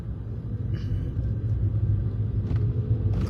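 A truck engine rumbles loud and steady while maneuvering to turn in a cramped space, a close, continuous low drone with faint scrapes or clatters on top and no one speaking.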